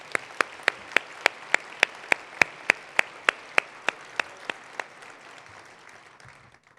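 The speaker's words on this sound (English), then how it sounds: "One more round of applause for Ms." At a charity breakfast event, crisp, evenly spaced claps ring out in a steady rhythm, roughly three per second, before stopping abruptly, leaving quiet room tone.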